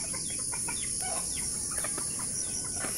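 A native hen clucks in short, repeated bursts close by, over a constant high-pitched insect-like whine and steady background hiss.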